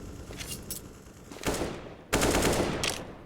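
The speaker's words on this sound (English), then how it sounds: "Posturing and gunfire over towards Long A." Bursts of gunfire crackle in Counter-Strike: Global Offensive on the Dust2 map, a few rapid volleys of shots at moderate distance with no talking.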